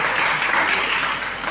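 Audience at a Jain monk's religious discourse in Gaya, Bihar, clapping together in a dense, even burst that holds steady and loud for the whole moment.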